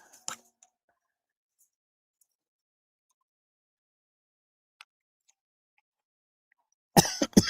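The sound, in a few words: persistent cough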